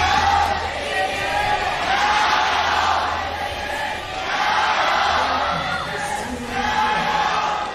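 A large arena crowd at a League of Legends World Championship quarterfinal between Fnatic and EDG roars, applauds and cheers in a steady, loud wash that swells and dips slightly throughout.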